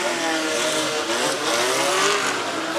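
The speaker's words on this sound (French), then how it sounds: "Le temps que ces voitures prennent le départ," Historic Grand Prix race cars, Formula 1, F2 and F5000 machines, set off from the start at Pau. A dense roar of engines revving and rising in pitch fills the whole stretch, loud and continuous.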